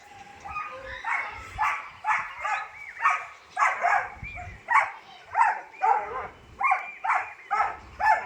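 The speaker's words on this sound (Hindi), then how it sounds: "इन बच्चों को देख के ना भौंक रहा है ये बार बार।" A neighbours' dog barks repeatedly at children, a steady run of about a dozen yappy, whining barks at a regular rhythm, fairly close and prominent outdoors.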